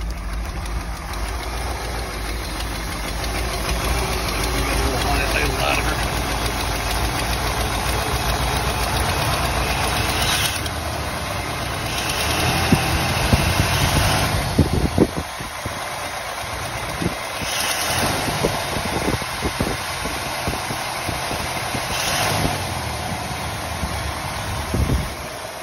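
A 1961 Ford Galaxie barn-find V8 idles steadily after its first start of the year, a loud continuous rumble with slight knocking, brief revving swells partway through, and a high-pitched whine running over it.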